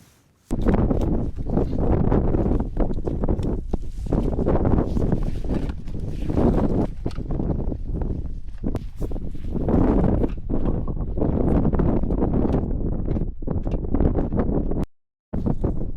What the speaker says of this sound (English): I thought I'll do one with the mic just so you can get a sense of the wind that we've had